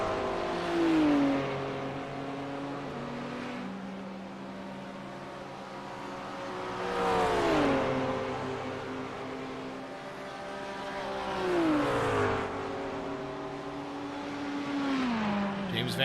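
GT3 race cars in a simulated race at Road Atlanta, engines revving up and down through gear changes as several cars pass in rising and falling waves, with commentary over the top.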